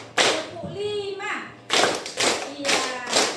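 Schoolchildren perform a rhythmic classroom spirit clap: sharp, close group claps repeat at an even pace while young voices chant along between the beats.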